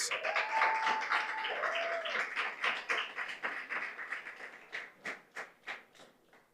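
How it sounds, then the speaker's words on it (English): Applause at an award ceremony: a crowd claps steadily at full strength, then the clapping thins into separate claps and fades out, with no talking over it. "Keep the applause going for Mr. Akeem Wright."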